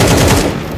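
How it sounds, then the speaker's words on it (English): Rapid bursts of cartoon gunfire rattle loudly and continuously like a machine gun, dense and close, fading slightly toward the end with no voices over them. "I heard gunshots in here."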